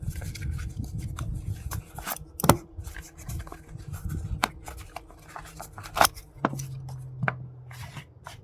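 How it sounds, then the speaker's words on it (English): Close-up rustling, clicking and metallic scraping as a packed MSR backpacking stove is unfolded from its pouch, with irregular crinkles and sharp little snaps. "there's a whole stove in here, believe it or not. Check this out."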